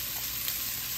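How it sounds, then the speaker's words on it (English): Onions sizzle in hot oil in a pan while Sunday dinner is cooked at home, a steady, close, crackling fry that carries evenly with no talking over it. "So now it's time for me to toss in the onions."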